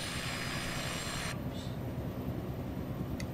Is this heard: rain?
no